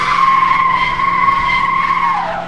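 A car spinning its wheels in Car Mechanic Simulator 2015, a loud, sustained high tire squeal over a steady engine hum, fading slightly toward the end.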